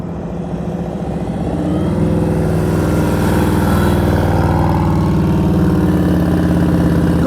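Motorcycle engine idling steadily at low speed during slow riding practice, a close, continuous rumble that rises slightly in pitch after the first couple of seconds and holds level to the end.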